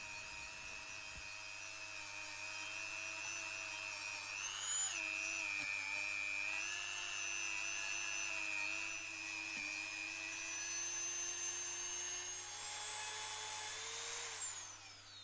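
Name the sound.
Dremel with sanding discs polishing welds on motorcycle cylinder fins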